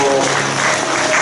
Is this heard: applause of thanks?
yes